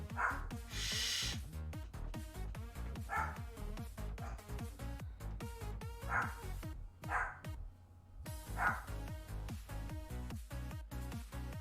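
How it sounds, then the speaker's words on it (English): Several dogs bark over and over at a mail carrier at the house, a rapid, dense run of sharp barks with short pauses, moderately close throughout. "Okay, dogs are done barking, I hope."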